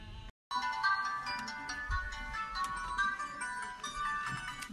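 A phone plays an electronic ringtone, a busy melodic pattern of tones repeating steadily after a brief cut, fairly faint and alone without talk.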